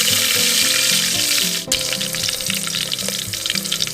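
Whole spices, including cinnamon bark and cloves, crackle loudly in hot oil for a village-style chicken curry on a clay stove, a close, dense sizzle that briefly dips and then picks up again.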